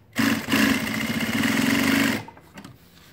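A Juki DDL-8700H industrial sewing machine stitching through paper and cardboard with #138 thread runs fast for about two seconds, a loud steady whirring buzz with a brief stutter near the start, then stops abruptly and a few faint clicks follow.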